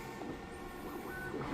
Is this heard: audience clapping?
no